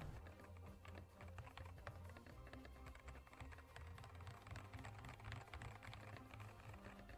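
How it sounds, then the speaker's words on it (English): Typing on a keyboard fitted with Ajazz Invisible silent switches gives a soft, muffled patter of rapid keystrokes, close and quiet, with a few slightly louder taps and no voices. "throw them on my keyboard, and see how they sound"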